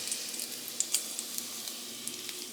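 Bacon sizzles faintly in a frying pan as it nears doneness, a soft hiss dotted with small pops and crackles.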